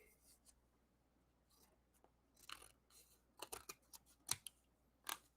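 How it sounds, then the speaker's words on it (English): Scissors trimming silver mirror board around a craft card, several sharp snipping cuts growing clearer toward the end over a quiet background. "I'm going to take my scissors and just trim around my mirror board"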